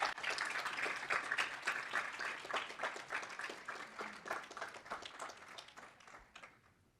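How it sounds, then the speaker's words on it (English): Audience applause at a 2022 Happy Valley Capital pitch competition, honoring the sixth-place startup: a dense, steady roomful of clapping that holds for several seconds and then thins and fades near the end. "A round of applause, please."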